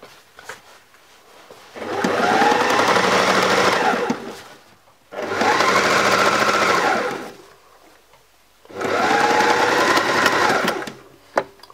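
Sewing machine stitching a fabric storage bag for a hand puppet, running in three steady bursts of about two to three seconds each with short quiet pauses between, loud and close.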